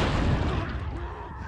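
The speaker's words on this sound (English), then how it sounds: "It's like an explosion." A deep, rumbling explosion from The Last of Us video game booms low and heavy, fading into a muffled roar over about a second and a half.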